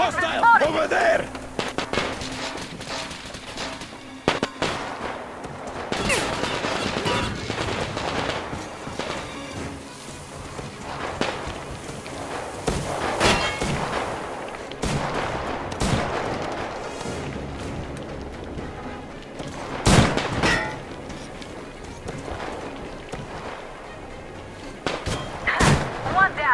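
Gunfight in the Metro Exodus video game, with scattered gunshots and heavy thuds, including a grenade blast, spread across a long stretch of combat while voices shout over the action.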